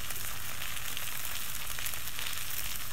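Rice flour and coconut milk crepe batter with shrimp and meat sizzles steadily in a cast iron pan, a dense, even crackling hiss close up with no talk.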